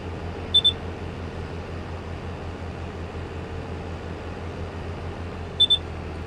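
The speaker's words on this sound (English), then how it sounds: "So that was beep beep beep beep beep beep. As you're fueling up" Fuel pump in Farming Simulator 22 during refuelling: two brief pairs of high electronic beeps, several seconds apart, over a steady low engine drone.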